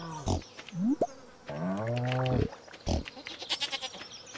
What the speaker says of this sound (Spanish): Encima ahora me han crecido las ovejas y las cabras y todo.